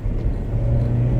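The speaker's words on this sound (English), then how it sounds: "Here's a bump that I usually avoid at all costs right here" Honda Prelude riding on Maxpeedingrods C0T6 coilovers at their stiffest setting over a bumpy road, a steady low cabin rumble and tyre drone that swells slightly as the car rolls across a bump.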